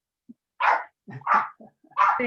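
An agitated dog barks during a rainy electrical storm, letting out four or five short, sharp barks at close range against an otherwise quiet background.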